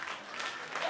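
Comedy club audience applauding during a live stand-up set, a steady dense wash of clapping filling the whole stretch at moderate level without letting up.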